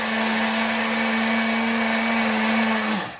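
A blender grinds rice into flour, a loud, steady high whir with a strong droning tone that runs for about three seconds, then winds down abruptly at the end.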